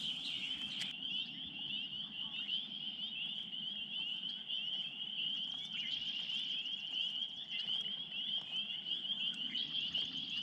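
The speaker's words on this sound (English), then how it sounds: "Peepers." Spring peeper frogs call from a marsh in a dense, unbroken chorus of high shrill peeps. The sound is steady and fairly close, with no voices.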